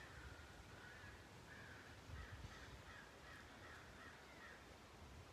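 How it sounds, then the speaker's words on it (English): Crows caw repeatedly in the distance, a faint, evenly spaced run of calls drifting over a steady broadband outdoor hiss. "the crows off in the distance."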